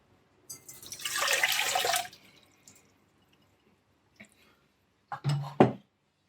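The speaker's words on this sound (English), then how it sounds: "300 ml of water, warm water." Warm water pours into a dough mixer for pizza dough in one short rushing stream, followed by a few faint clinks and a brief splash.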